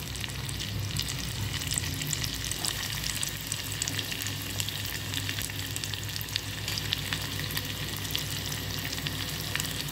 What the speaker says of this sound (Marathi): तर आपण लगेचच यावर कांदा परतूया